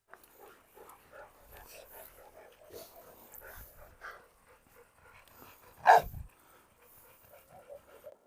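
A blue Cane Corso dog barks and pants indoors, with soft panting and whimpers running throughout and one sharp, loud bark near the end; a person talks intermittently in the background.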